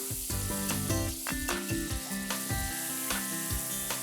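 Mushrooms sizzle steadily in butter in a hot pan, a constant crackling hiss with occasional scraping and clinking of a utensil, close up.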